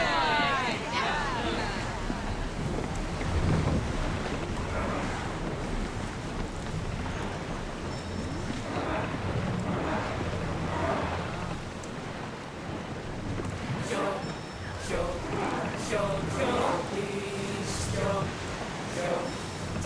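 Ship rowed at sea in Assassin's Creed Odyssey: a steady rush of wind, water and rain-like noise runs throughout with rumbling low end, while voices talk over it at intervals.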